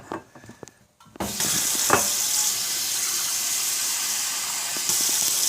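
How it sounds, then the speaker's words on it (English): Tap water pours into a saucepan in a home kitchen, a loud steady gushing rush that begins after a few small clatters and a short pause and then runs unbroken to the end. "Let me get some water in it"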